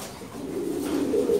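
Pigeons at a busy pigeon market in Dhaka cooing close by, a soft low repeated coo over faint background murmur.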